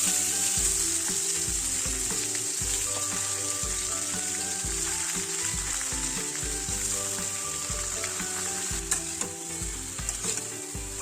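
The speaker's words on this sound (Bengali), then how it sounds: "কড়াইতে সর্ষের তেলে পাঁচফোড়ন শুকনো লঙ্কা দিয়ে আমগুলো ঢেলে দিই" Mangoes tipped into mustard oil with panch phoron and dried red chillies in a wok, sizzling and frying loudly and steadily with stirring scrapes throughout, up close and without talk.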